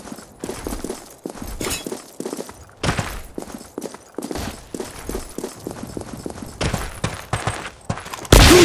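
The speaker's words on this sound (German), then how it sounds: "Schuss." Repeated Kar98k rifle gunshots in the video game Karma Online during free-for-all play, loud sharp cracks spaced irregularly through dense game noise, with a heavy burst at the end.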